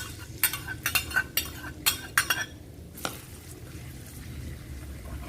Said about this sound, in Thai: นำกระเทียมที่เราโขลกไว้นะคะ มาเจียวค่ะ